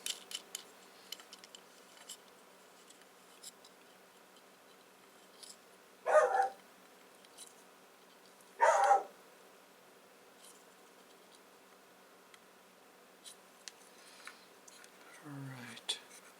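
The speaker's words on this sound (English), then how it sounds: "And now the dog decided to start barking." A dog indoors at night barks in two short bursts several seconds apart, fairly distant, against a quiet room with faint handling noise and a whisper of talk.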